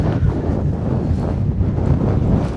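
Strong wind buffeting a camera microphone at a rope bridge in a very windy, exposed spot, a loud rumbling roar with gusty surges, no voices.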